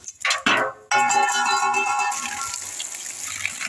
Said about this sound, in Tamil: தண்ணியில் நல்லா அலசிட்டு எடுத்துடலாம்